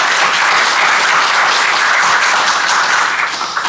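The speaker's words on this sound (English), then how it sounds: "a round of applause" Loud, dense applause from an audience at a community candidates' forum, a continuous wash of many hands clapping heard close and alone, tapering slightly at the end.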